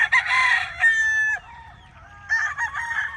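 Chickens and roosters in a yard, with a loud nearby rooster crowing twice, drawn-out cock-a-doodle-doo calls separated by a short pause, plus some clucking in between.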